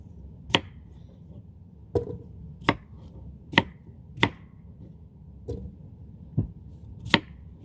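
A knife chops little red potatoes on a cutting board in a home kitchen, eight crisp, separate knocks spaced unevenly about a second apart, close and clear with a quiet background.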